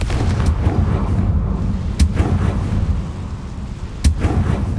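A Confringo fire spell blasts in Hogwarts Legacy, sharp cracking bursts at about two and four seconds punching through a dense, loud rumbling din of game sound.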